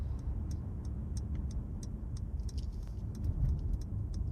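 Car turn signal indicator ticking at a steady regular pace, faint and close inside a moving car at night on a highway, over a low road rumble.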